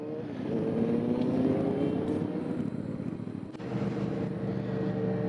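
Porsche GT3 engine droning steadily nearby, with rising harmonic tones as it pulls, heard from a rider on a Yamaha MT-07 motorcycle alongside; no one speaks.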